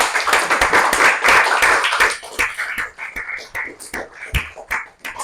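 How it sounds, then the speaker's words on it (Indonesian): Classroom applause for a student group's presentation, a dense burst of many hands clapping that thins out into scattered individual claps toward the end. "kita kasih aplaus dulu untuk kelompoknya Andika ya"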